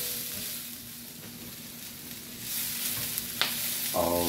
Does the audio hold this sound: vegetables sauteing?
yes